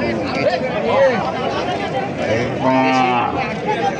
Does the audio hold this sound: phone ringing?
no